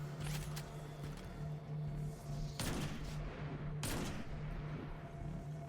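Gunshots in the video game Destiny 2: two sharp, punchy shots a second or so apart, loud over a steady background hum and faint game noise.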